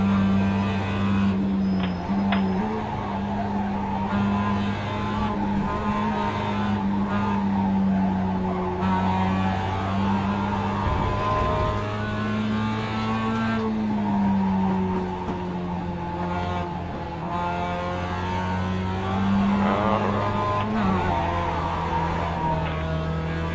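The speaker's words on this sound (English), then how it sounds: "a little bit of wheel spin there" A race car in the iRacing sim, an ALMS/IMSA GT-style machine, drones steadily at high revs with tires squealing and skidding as the wheels spin through a corner, loud and continuous with shifting engine pitch.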